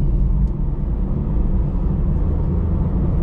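A manual car's engine drones loud and steady in second gear around 3000 RPM, a continuous low rumble with no clear shift break.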